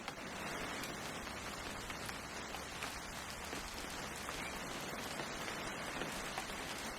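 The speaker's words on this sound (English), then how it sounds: "It's gonna rain the whole weekend, isn't it?" Steady rainfall patters on surfaces in the video game What Remains of Edith Finch, an even, close wash of drops that continues without pause.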